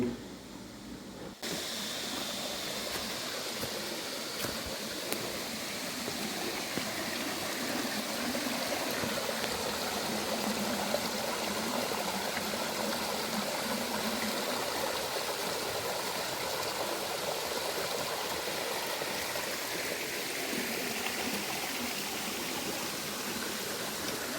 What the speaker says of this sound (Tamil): இதுதான் ஃபஸ்ட்டு அருவி.